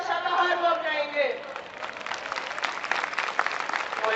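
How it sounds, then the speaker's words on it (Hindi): An audience at a vegetarianism rally gives children loud sustained applause, with a voice speaking over the start before the dense clapping takes over. "इन बच्चों की जोरदार तालियां"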